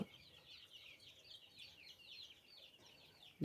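Chickens at a poultry sale in the Qavali neighbourhood on Chilonzor street, clucking and chattering steadily at mid distance, ending in a sudden loud close thump.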